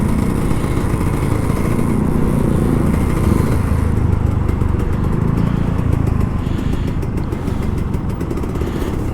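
An old Kawasaki Ninja RR 150 two-stroke motorcycle rides through congested Jakarta traffic, its engine buzzing loud and close throughout with a steady, raspy drone that eases slightly partway.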